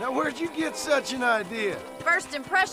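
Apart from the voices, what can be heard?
No everyday noise stands out behind the speech.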